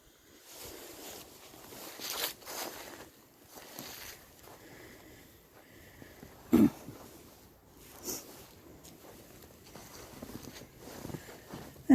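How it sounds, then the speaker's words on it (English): A person sniffles a few times outdoors in cold weather at a cemetery, short breathy bursts spaced apart over a quiet, faintly windy background. "I know I'm sniffling quite a bit."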